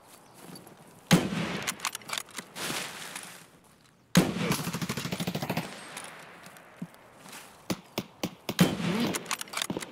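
Gunfire in the shooter game Escape From Tarkov, aimed at a sniper scav: loud sharp shots come in bursts and single reports with echoing tails and gaps of quiet between them, and no talk is heard.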